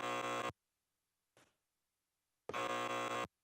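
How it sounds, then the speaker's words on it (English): Two loud, harsh electronic buzzer blasts, each roughly half a second to a second long, separated by silence with a small brief noise between them. "I hear the buzzer."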